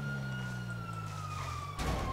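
A police siren in the video game GTA 5 Online wails steadily and moderately loud through the whole stretch, joined near the end by a burst of broader game noise.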